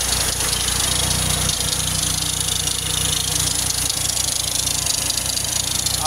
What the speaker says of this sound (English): that alternator's making noise